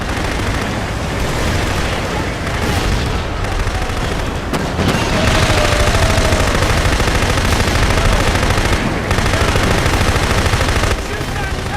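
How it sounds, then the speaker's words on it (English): Killzone 2 combat with weapons firing at a tank: dense, continuous automatic gunfire and heavy blasts, loud and close, without letup. "Shoot that tank, Sam!"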